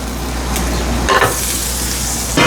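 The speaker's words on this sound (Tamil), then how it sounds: "இதை போட்டு இப்படி கொதிக்க வைக்க போகிறோம்." Thick coconut milk heats in a pot for milk puttu, giving a dense, close bubbling hiss with a few short stirring scrapes.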